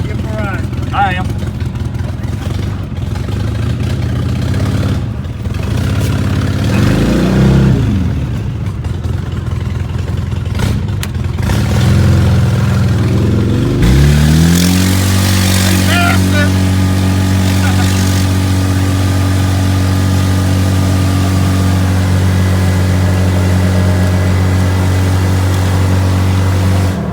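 Small engine of a mini VW Thing running and driving, a steady mid-pitched hum with one rising rev partway through, heard close with people talking over it.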